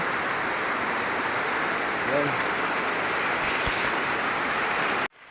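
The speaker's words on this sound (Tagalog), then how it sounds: "Grabe ang lakas ng ulan." Heavy rain pours down steadily on a house under renovation, a dense, even hiss that runs unbroken for several seconds before cutting off abruptly.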